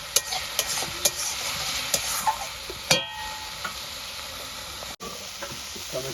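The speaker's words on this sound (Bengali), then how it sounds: "মশলাটার সঙ্গে আমি কষিয়ে নেব" Spice masala with tomato sautés in a pan, giving a soft sizzle and hiss. Distinct spatula knocks and scrapes recur every second or so, close and moderately loud, with no speech.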